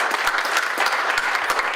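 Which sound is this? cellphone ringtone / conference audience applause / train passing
conference audience applause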